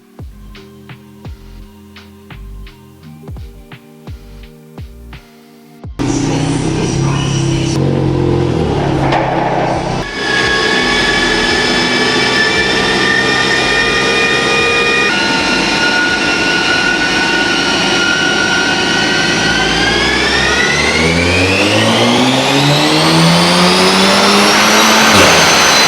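Volkswagen Golf R on a dyno, opening with choppy blips and pops before the engine climbs into a sustained loud rev, pulling through rising gears with a whining, soaring note that builds toward the end.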